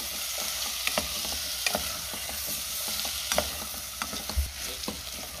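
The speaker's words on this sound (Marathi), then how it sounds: "आता हे पुन्हा मी 2 मिनिटं चांगलं परतून घेणार आहे" Potatoes sauté with spices in a pan for Maharashtrian masala rice made with fresh pigeon peas, giving a soft continuous sizzle and crisp spatula stir taps, close by and without speech.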